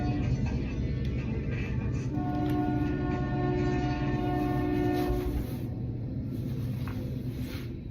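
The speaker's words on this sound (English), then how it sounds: "Fucking train. Damn. Thomas the Tank Engine rolling by." A train rolls past outdoors, a steady loud rumble with sustained horn tones sounding partway through, then the noise gradually fades.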